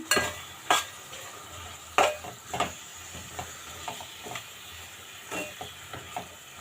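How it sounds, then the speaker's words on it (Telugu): Okra pieces stirred in a pan with onion paste and ginger-garlic paste, giving irregular scraping and clinking strokes of a utensil over a soft, steady sizzle, with several sharper knocks spread through. "వేసేసుకుని ఒక్కసారి బాగా కలిపేసుకుందాము"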